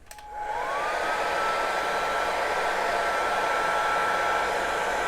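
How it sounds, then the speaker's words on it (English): A heat gun whirs up with a brief rising whine, then blows a steady, loud rush of air with a constant high tone. "And we're going to take our heat gun here."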